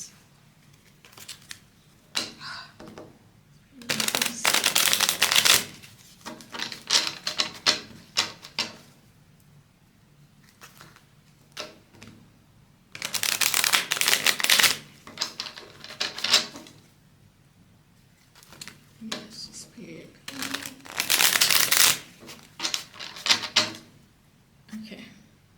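Tarot-style cards shuffled by hand during a reading, heard as repeated bursts of crisp riffling and flicking, each lasting a second or two, separated by quieter pauses with occasional soft handling sounds.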